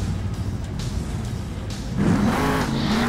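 Earth Shaker monster truck from the Monster Jam video game, its engine a steady low roar that surges louder about two seconds in, with game tyre noise and no talk.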